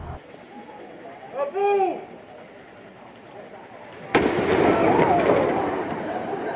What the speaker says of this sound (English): I wasn't prepared for the cannon being quite so loud